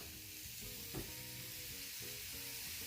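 Lamb skewers sizzle on a crêpe griddle, a steady close frying hiss with a faint clack near the start and no voices.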